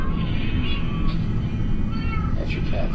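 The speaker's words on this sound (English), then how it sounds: "That's your cat." A cat meows in a haunted Minecraft-style game session, a few short mews over a loud steady rumble of background noise.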